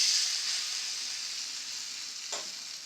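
A raw potato snack mixture fries in hot oil in a kadhai, making a strong, continuous sizzle with a bright hiss near the end as more is added or pressed.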